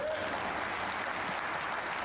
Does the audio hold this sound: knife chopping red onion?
no